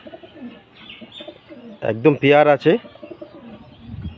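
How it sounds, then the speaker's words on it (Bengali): A pair of black pigeons coo softly in the background while someone talks close by, his voice dominating the middle of the stretch. "এই দুটো ব্ল্যাক পায়রা দেখুন"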